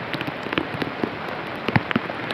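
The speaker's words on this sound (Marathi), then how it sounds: "पाऊस पण लय वाढायला वाढायला लागला" Steady rain patters across a surface, with scattered sharper drips and splashes standing out over the dense, continuous hiss.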